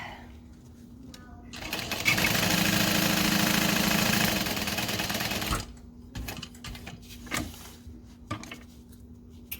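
A sewing machine backstitches through a backpack with a dense, steady buzz for a few seconds, then stops, leaving short mechanical clicks and handling noises against a faint background hum.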